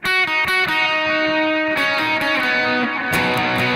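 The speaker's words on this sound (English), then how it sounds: "I jump to my bridge pickup and a heavy distortion" Electric guitar played through the bridge pickup with heavy distortion, a thick, sustained, saturated chord with a couple of sharp re-attacks, loud and close with no voice.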